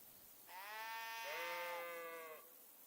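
A ram bleating in the medieval game Kingdom Come Deliverance 2, a single drawn-out wavering bleat lasting about two seconds, clear and alone.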